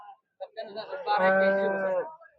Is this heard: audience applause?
no